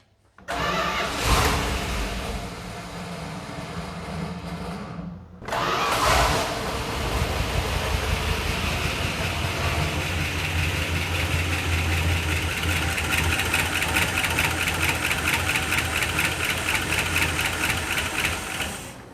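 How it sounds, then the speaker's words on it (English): A 1988 Dodge D100 shortbed pickup engine cranks, catches after a brief pause, then settles into a loud, steady idle with a fast clattery ticking from noisy lifters. "The lifters are clattery."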